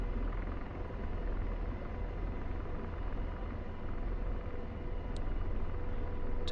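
Apache attack helicopter taxiing in a flight simulator game, a steady, loud rotor and turbine drone holding constant throughout with no talk.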